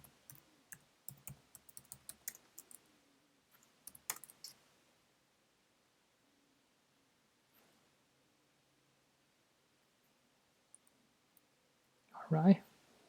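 A computer keyboard tapped in short clusters of light clicks, followed by a pause and a final keypress, faint and close in a quiet room, with a brief rustle near the end.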